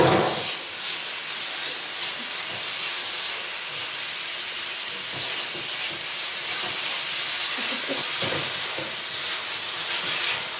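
Chicken pieces sizzling hard in a hot wok while being cooked, a loud continuous hissing fry with bursts of spitting and occasional stirring, no voices over it.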